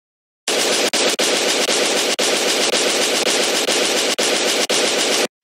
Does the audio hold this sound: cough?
no